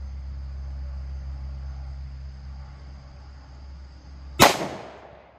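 A single sharp report from a 10mm pistol firing DoubleTap 180gr Colt Defense JHP ammunition, loud and close, cracking out of a steady low background hum, with a short decaying tail after it.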